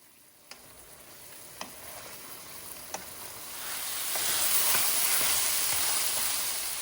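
Finely chopped onions hit a pan of cooking mutton liver with a few sharp ticks, then the sizzle builds into a louder, steady frying hiss close by, with no voices.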